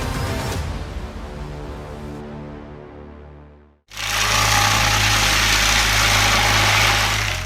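A 115-horsepower diesel stump grinder engine spins its cutting disc, first a steady harmonic drone that fades briefly, then a loud, dense, roaring surge as the disc bites, sustained and close.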